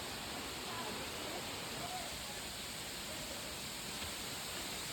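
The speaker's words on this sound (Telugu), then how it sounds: "ఇక్కడ ఈ వాటర్ ఫాల్స్ దగ్గర ఏంటంటే కొండ మధ్యలోంచి వస్తుందండి వాటర్ మొత్తం కూడా" Waterfall flowing out from the middle of a hillside at Dhar Palle, a steady hissing rush of water that continues without a break.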